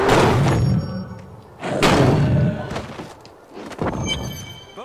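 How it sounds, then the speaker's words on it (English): Heavy wooden gate in Diablo 3 Reaper of Souls on Xbox One, several loud slamming thuds and creaking impacts spaced a second or two apart, with game voices faintly underneath. "Gus, open the gate."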